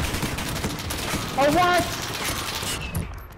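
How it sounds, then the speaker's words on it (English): Rapid automatic gunfire from the video game Call of Duty: Modern Warfare rattles in dense bursts, with a player briefly speaking over the shooting. "I shot the fuck out of that guy."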